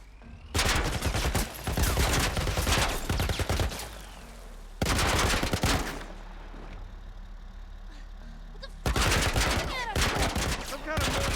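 A military turret fires in The Last of Us in three heavy bursts of rapid, loud, booming shots, separated by quieter stretches of rumbling background noise.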